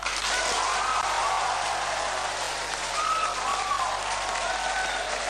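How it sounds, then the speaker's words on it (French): Applause from a university audience of students, teachers, family and guests after a doctoral thesis verdict, a steady hiss-like patter of many hands, moderately distant and continuous with no talk. "Une délibération accueillie sous un tollé d'applaudissements par l'assistance composée notamment d'étudiants, d'enseignants, de parents et amis du candidat et de plusieurs invités."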